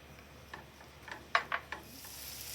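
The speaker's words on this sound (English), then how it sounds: "the onion, sweet pepper, and the garlic. Allow them to saute just for a couple of minutes to get them nice and soft." Onion, sweet pepper and garlic sautéing in a pan for sautéed kale: a quiet, soft sizzle with a few sharp clicks and stirring scrapes near the middle.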